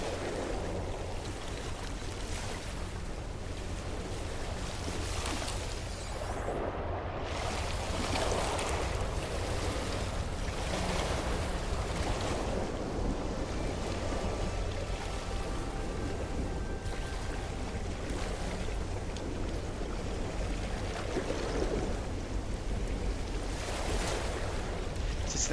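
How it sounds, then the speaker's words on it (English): Loud ocean surf in the video game No Man's Sky rolls and crashes continuously, a broad wash of wave noise with gusty wind, no voices. "that water, those waves are loud"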